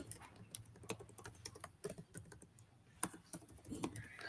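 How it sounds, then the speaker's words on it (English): Quiet, irregular clicks of typing on a computer keyboard, with scattered keystrokes and short pauses, close by and alone. "I'm typing for now"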